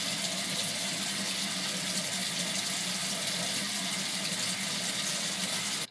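Tap water runs steadily while exfoliant is rinsed off a face at a sink, a continuous close hiss and splash with no pauses and no talking.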